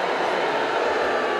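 A large X Factor UK audition audience boos, a loud, steady wall of crowd noise lasting the whole moment with no break and no one speaking over it.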